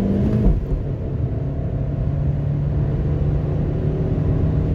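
A 2024 MG ZS with the base 1.5 VTi-Tech petrol engine of 106 hp, heard from inside while driving: a loud, steady engine drone and road rumble that holds constant throughout, with no speech.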